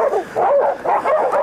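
Hunting dogs bay and yelp in quick, repeated bursts at a cornered boar hog in brush on a creek bank, the barking close and loud in three rough waves.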